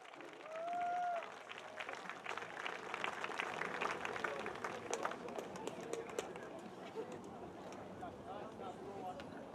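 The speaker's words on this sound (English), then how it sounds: "one more round of applause for our senior players and their parents" A crowd at a Friday night high school football senior ceremony claps for the senior players and their parents, a steady outdoor round of applause at moderate distance, with a bird call briefly heard near the start.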